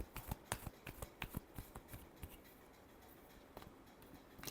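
Tarot cards are shuffled by hand in quick riffling bursts and crisp slaps, close and quiet, the clatter thinning out toward the end with no talk.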